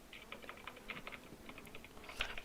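Faint, quick clatter of keys on a cheap $35 computer keyboard, a steady run of light taps close to the microphone with no speech.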